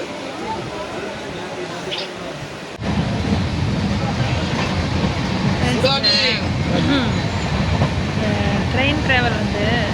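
Steady rumble of the Vaigai Express passenger train running from Madurai toward Chennai, a continuous rolling roar that jumps louder partway through, with squealing metallic tones and people talking nearby under the noise.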